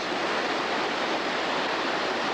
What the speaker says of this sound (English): Here's a creek about 50 yards from the house.